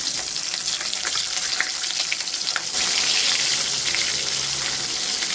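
Cracked eggs fry in a pan for a Bengali egg onion curry, a loud steady sizzle and spatter that grows denser and more uniform halfway through as the lid goes on, no one speaking.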